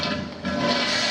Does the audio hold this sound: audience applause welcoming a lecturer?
no